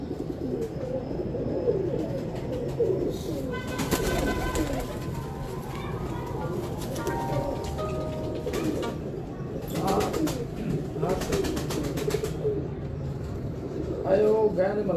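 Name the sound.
pigeons cooing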